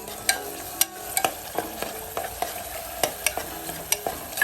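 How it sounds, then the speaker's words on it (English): Ground masala paste sautés in hot oil inside a pressure cooker over a medium flame, a steady close sizzle punctuated by regular spoon scrapes and stirring clicks, with no voices. "Saute this paste for a minute on a medium flame."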